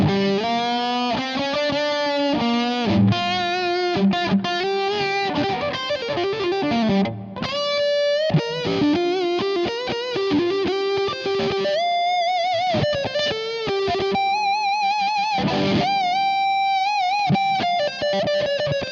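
A budget Strat-type electric guitar with heavy distortion plays continuous riffs and sustained chords, loud and close, with no voices throughout.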